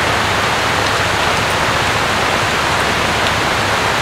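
Heavy monsoon rain pours down outside, a loud, dense, unbroken hiss of water that stays steady throughout with no voices.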